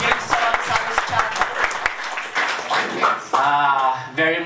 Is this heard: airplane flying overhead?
no